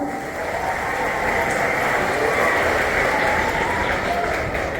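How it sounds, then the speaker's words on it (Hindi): A school audience at an Independence Day celebration applauds students honoured for top board exam marks, a continuous, loud wash of clapping that holds steady from start to finish. "इनके लिए जोरदार तालियां"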